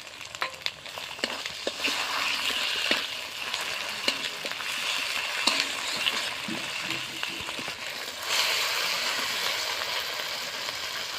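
Ginger and garlic frying in hot oil for a fish curry, a steady close sizzle with scattered crackles and spatters, growing louder toward the end, with no talking.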